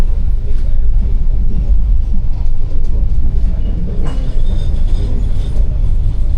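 Passenger train rolling past close to houses near the East Java governor's office in Surabaya, a loud continuous rumble with low-end roar and faint rattling, sustained for the whole stretch.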